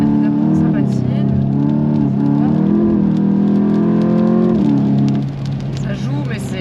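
Volkswagen Golf GTI Edition 50 climbing a hill with its wheels slipping: a loud, steady engine drone with strained whirring tones that rise, then the pitch drops and eases near the end.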